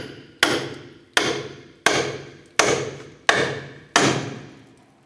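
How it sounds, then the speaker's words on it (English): Six sharp, ringing hammer blows at a steady pace drive a pickle fork between the upper ball joint and steering knuckle on a 1994-2004 Chevrolet S10, each strike loud and close with a metallic decay. "Using a pickle fork, we're gonna go between the ball joint and the knuckle."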